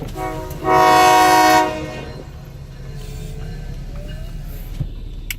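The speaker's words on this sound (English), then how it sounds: "Oh, it's a single train." A loud train horn blasts for about a second over a steady rumble of a passing train, with the rolling noise continuing after the horn stops.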